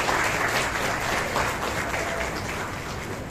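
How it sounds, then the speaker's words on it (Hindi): Loud, sustained applause from a crowd at a community peace committee meeting in a mosque and madrasa setting, dense clapping filling the room throughout. "जोरदार तालियां से सर।"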